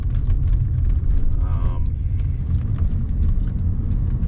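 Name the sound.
1991 Mercedes-Benz 420SEL driving down the road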